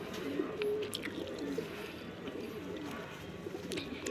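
Pigeons coo in a loft, several soft low throaty calls scattered over a faint, steady background rustle.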